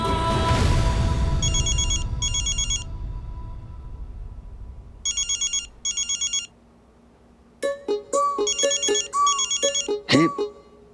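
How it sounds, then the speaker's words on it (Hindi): A mobile phone rings with an incoming video call late at night, a repeating electronic ringtone in bursts, first under a loud rushing noise and then clear and close. "ये दक्कू भाई इतनी रात को क्यों फोन कर रहे हैं, वो भी वीडियो कॉल?"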